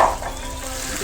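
Tomatoes and green chillies sautéing in a pan for chicken palak, a steady close sizzle with faint stirring scrapes throughout, no talk.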